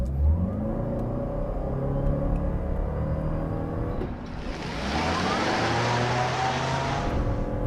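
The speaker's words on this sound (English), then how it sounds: "'22 Lexus NX. 450h plus without launch control." A 2022 Lexus NX 450h+ hybrid SUV with a 2.5-litre four-cylinder pulls away without launch control, its engine drone rising steadily in pitch, then giving way to louder wind and tyre rush as speed builds.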